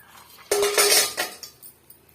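Dried fish dropped into a metal kadai, a sudden clattering metallic clink and short sizzle burst followed by a few fading scrapes and taps, close and alone.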